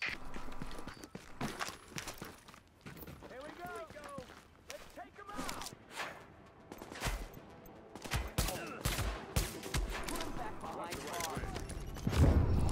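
Gunfire in The Division 2, with bursts of rapid shots and scattered single cracks spread through the clip, mixed with game effects and people talking over the action.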